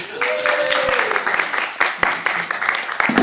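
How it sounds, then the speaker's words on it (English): Audience applause at a live comedy show: a crowd clapping steadily and fairly close, with a voice over the start and some shouts mixed in. "Give this guy a round of applause."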